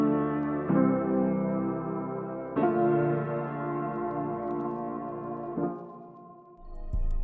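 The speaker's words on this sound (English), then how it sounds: "The pad sound loosely follows the piano notes." Soft synth pad layered with piano chords in a vintage soul sample built in FL Studio, sustained warm tones with new chords entering every couple of seconds, playing alone without voices.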